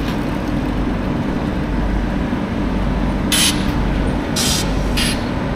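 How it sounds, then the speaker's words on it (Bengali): Dhauli Express pulling out of Cuttack Junction, heard as a loud, constant low rumble with a few short hissing bursts near the end and no talking. "আমাদের ট্রেন ছেড়ে দিল কটক জাংশন।"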